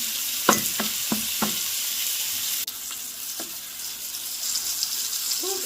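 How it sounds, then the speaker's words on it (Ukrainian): Steady sizzling of chopped apples and pork liver frying in a pan, with a few quick clicks and scrapes of stirring near the start. "через 2-3 хвилини додаємо подрібнені яблучка і ще смажимо хвилину дві"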